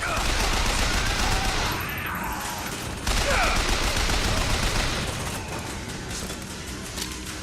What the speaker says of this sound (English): And you notice I'm getting shot at.